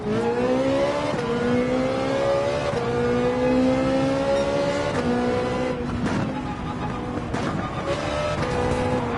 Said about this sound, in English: The Ferrari 458 is great and a perfect car for you if you really like to rev out